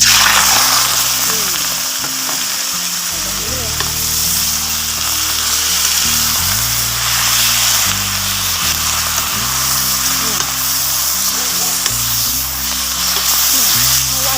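Thai ginseng sizzling steadily in hot oil in a wok, a loud continuous frying hiss lasting throughout with faint scraping of stirring beneath.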